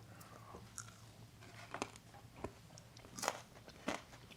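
Crunchy chewing of homemade dandelion root french fries heavily dusted with cayenne pepper, close and quiet, with irregular sharp bites and crackly crunches spaced across the moment, no talking.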